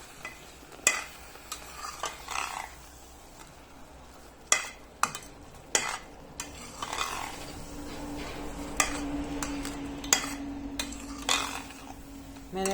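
Grated carrots stirred in butter in a pot for gajar halwa, a spoon scraping and knocking against the metal in irregular strokes over a soft sizzle, close and moderate in level with no speech.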